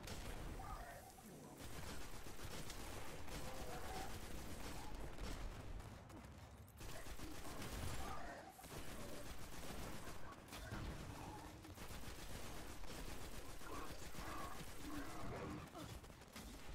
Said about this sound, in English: Just shooting the shit out of a shield.